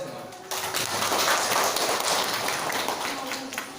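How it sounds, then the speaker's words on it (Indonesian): A small group claps together after a relaxation breathing exercise, a brisk patter of applause that starts suddenly and continues steadily for a few seconds before easing off. "Tepuk tangan buat kita semua"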